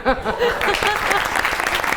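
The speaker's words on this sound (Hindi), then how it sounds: "बात सुनो, अरे कहाँ है आपकी तालियां?" Loud, dense clapping from a crowd, sustained throughout, with a voice speaking over it near the start.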